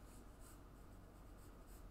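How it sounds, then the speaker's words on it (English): A normal 2B pencil draws steadily on paper, a soft continuous scratchy rustle close by, with faint rhythmic strokes and no voices. "I'm using just a normal 2B pencil"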